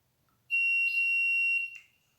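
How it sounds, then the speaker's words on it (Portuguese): Electronic buzzer triggered by a magnetic reed switch sensor; a single high, piercing continuous tone sounds for about a second in a quiet room, then stops with a brief stutter. "Então vamos ver se ele apita."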